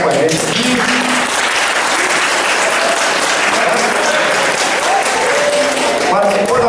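Loud, dense applause from an audience for a child who took part in a live show, sustained throughout with voices and a crowd murmur mixed in.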